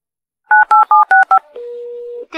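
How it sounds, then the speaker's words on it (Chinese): Five quick, clean keypad beeps ring out as a phone number is dialed, followed by a long, steady tone on the line, all loud and close with no voices. "你说你给马总监打电话"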